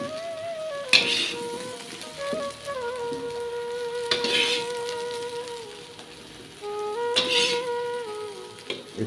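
Soybean chunks fry in oil in a pan, giving a soft continuous sizzle broken by three louder scraping stirs spaced a few seconds apart, with a faint tonal hum in the background.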